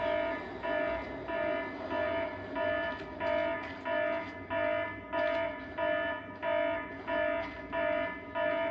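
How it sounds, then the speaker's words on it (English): Base alarm in the video game Splinter Cell Chaos Theory, a steady electronic tone pulsing in regular bursts about twice a second, loud and continuous throughout with no talking. "So, the alarm has been sounded, basically."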